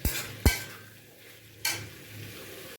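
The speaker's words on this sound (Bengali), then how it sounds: "খানিকটা জ্যাগারি পাউডার এর মধ্যে দিয়ে দেব, দিয়ে ভালো করে নাড়াচাড়া করে নেব।" A spoon stirs boiled peas and chickpeas with jaggery powder in a pan for a fenugreek-greens chochori, giving a few quiet, separate scrapes and clinks against the metal with short pauses between strokes.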